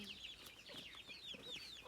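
Chickens clucking in a steady chatter, with high chirpy calls overlapping throughout at moderate volume and no talking.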